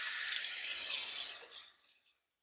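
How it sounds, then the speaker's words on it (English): Tap water runs hard into a sink while rinsing the chute of a slow juicer, a loud close hiss that holds steady and then tapers off into silence as the flow stops. "Get a little bit of water running here."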